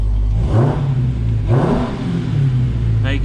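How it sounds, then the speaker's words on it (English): A 2023 Dodge Challenger SRT Hellcat engine on a dyno gives two short throttle blips, the rumble rising and falling over a steady idle, recorded up close. "we're just going to give it a little bit of throttle"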